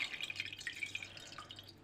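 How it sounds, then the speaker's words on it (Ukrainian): Whey drains off homemade milk curd cheese, poured from a pot in a light, continuous trickle of dripping and splashing liquid, close and steady with no talk. "давайте будемо переливати. півонечку спочатку, щоб обрати всю, всю сироватку"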